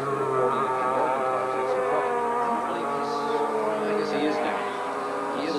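Race cars at the 1990 IMSA Watkins Glen race, including Camel Lights prototypes such as the Calvin Fish and David Tennyson car, drone and buzz steadily at a distance with engine pitch shifting, under continuous commentary.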